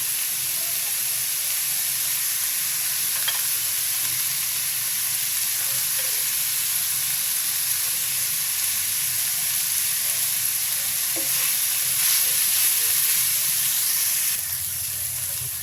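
Chopped banana flower and prawns fry in a pan with a steady, loud sizzling hiss that holds evenly throughout, swelling briefly near the end, without any talking.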